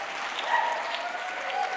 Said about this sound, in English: Man, a round of applause